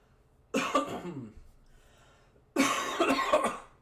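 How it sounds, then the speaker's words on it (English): Two bursts of coughing, the first a short hacking fit and the second a louder, harsher cough about two seconds later, close by with quiet between. "Now you gotta step away from the mic to cough."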